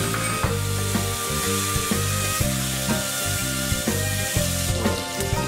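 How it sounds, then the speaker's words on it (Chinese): Steady, loud sizzling as cooking wine hits a hot wok over high heat beside pork and chopped fermented black beans, a continuous frying hiss with light stirring knocks and no voices. "大火烹料酒"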